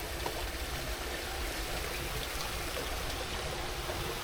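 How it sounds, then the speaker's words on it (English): A park water feature shooting out water, a steady rushing spray heard nearby and alone, continuous with no breaks. "So they have these little water features that will shoot water out."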